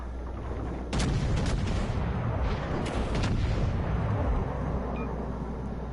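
Heavy naval guns of the battleship Texas fire a broadside in a naval combat video game, a few loud booming blasts with rumbling tails over a constant low engine drone.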